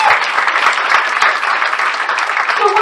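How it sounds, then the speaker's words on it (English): Steady, fairly loud audience applause at a cruise event, a continuous wash of clapping with no one speaking. "give another round of applause"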